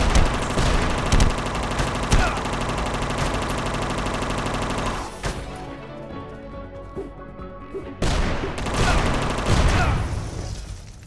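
A machine gun in the video game UnMetal fires long rapid bursts, loud and close. The fire breaks off for a few seconds of quieter ringing, then resumes in a final volley.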